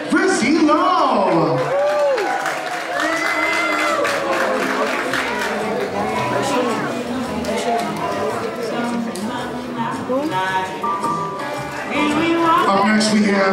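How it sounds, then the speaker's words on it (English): Audience at a benefit fashion show applauds and cheers with whoops and shouts, a steady loud crowd roar running throughout while a voice talks over it. "How about a big round of applause for Frizzy Low?"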